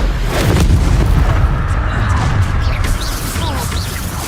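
A Bombarda spell blast in Hogwarts Legacy lands as a loud booming explosion with crashing debris and whooshing magic, followed by lingering rumble and scattered crackles during a duel.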